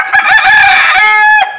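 A rooster crows loudly and close by, one long strained cock-a-doodle-doo with a rasping harmonic tone, ending abruptly.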